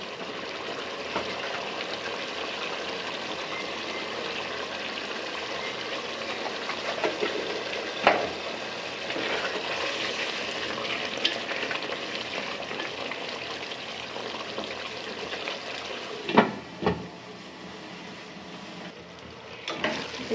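Potatoes for aloo dum frying in a pan with spices and added water, giving a continuous soft sizzle and bubbling with a few louder stirring scrapes and clunks, close and steady throughout.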